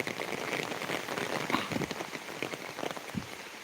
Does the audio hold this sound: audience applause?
no